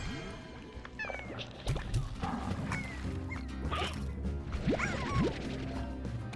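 A cat meows inside the video game Slime Rancher, short rising meow calls scattered over game music and clattering impact effects, fairly faint in a busy game mix.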